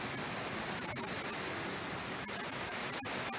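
Rainwater streams through a flooded backyard after storms ahead of Hurricane Milton, a steady, even rushing hiss of flowing water that fills the whole stretch without pause.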